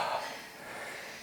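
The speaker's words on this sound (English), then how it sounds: "Excuse the heavy breathing" Heavy, breathy panting from a hiker climbing steep log stairs uphill on the Overland Track near Pine Valley and the Acropolis; close, continuous hissing breaths with no speech.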